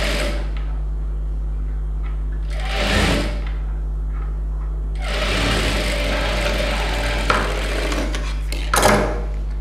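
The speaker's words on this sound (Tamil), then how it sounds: "இப்போ ஸ்டிச் போட்டேன்" A sewing machine stitches thread piping onto a designer blouse. It whirs close and loud in a short burst, pauses, then runs in a longer steady burst over a constant low hum.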